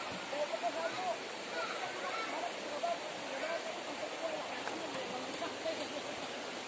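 A clear stream flows through countryside farmland where people wash clothes, a continuous soft rushing of water with small splashes, while voices talk nearby.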